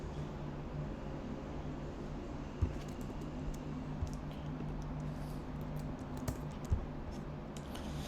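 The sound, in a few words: typing on a computer keyboard, pressing enter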